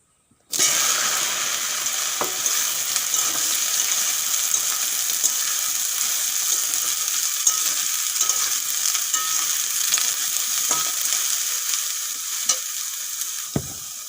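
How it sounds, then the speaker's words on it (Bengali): Soaked, drained soya chunks hit hot oil and burst into a loud, steady sizzle that holds without a break, with a few sharp clicks from the pan near the end. "তেল গরম হয়ে গেছে এখন আমি সয়াবিনগুলো ভেজে নেব"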